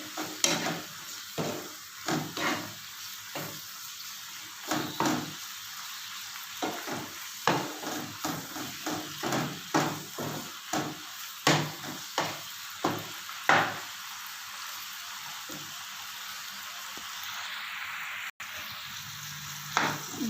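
Chicken frying with salt and black pepper in a pan sizzles steadily and close, broken by repeated sharp scrapes and knocks of a utensil stirring at an uneven rhythm throughout.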